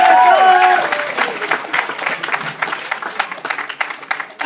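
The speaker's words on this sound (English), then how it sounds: "Some cheer for Tejas once again." Theatre audience at a comedy show bursts into loud applause with scattered cheers, clapping swelling at first then continuing in uneven waves.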